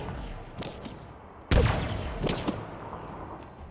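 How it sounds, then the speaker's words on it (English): A weapon fires in the video game Halo Infinite while aiming down sights, with one sharp, loud shot followed by fainter echoing reports and rumble. "If you aim down sights and fire the weapon, the shots will track to your crosshair's position."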